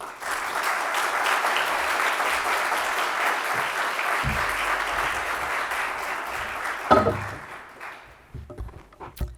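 Sustained applause from an audience at an awards ceremony welcomes a professor to the stage, dense and steady, then thins to a few scattered claps before fading out.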